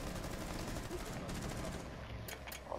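Bursts of gunfire from Rainbow Six Siege crackle in rapid succession, dense and close, with a couple of sharper shots at the end.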